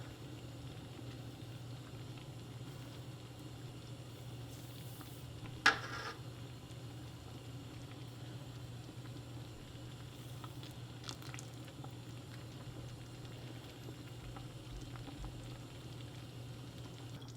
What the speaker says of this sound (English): the bubbles have gotten a whole lot larger than they were